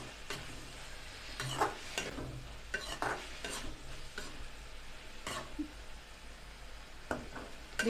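Capsicum fries in oil in a pan, a soft steady sizzle broken by scraping stirring strokes at irregular intervals, close and fairly quiet.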